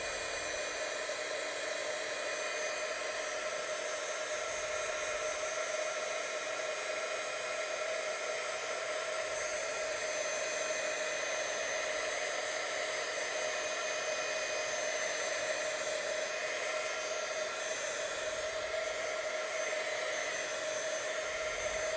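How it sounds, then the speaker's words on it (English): A hair dryer blows steadily on a craft project, a constant airy whoosh with a steady tonal whine that runs unbroken and fairly close, with no one talking. "Some people use a hair dryer."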